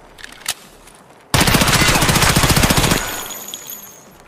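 Escape from Tarkov gunfire: a single sharp shot, then a loud, rapid burst of automatic fire lasting about two seconds, followed by a fading echo.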